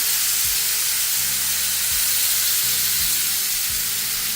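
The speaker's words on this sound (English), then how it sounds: "We're going to basically sear the meat, right?" Ribs for a Jamaican stew sear in a hot pan with a loud, continuous sizzle and hiss, steady from start to finish, with faint low thuds of handling beneath and no talk.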